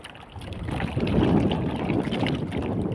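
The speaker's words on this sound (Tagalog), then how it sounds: "Malakas talagang hangin mga idol" Strong wind at sea buffets a small fishing boat during traditional handline fishing in the Philippines, a steady rushing roar with water slapping against the hull and no voices.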